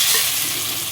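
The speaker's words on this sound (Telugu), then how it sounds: "నెక్స్ట్ తాలింపు వేసుకున్నాము." Mustard seeds and cumin for a tempering fry in hot oil in a pot, giving a loud, steady, close sizzle and crackle that fills the whole second without any voices.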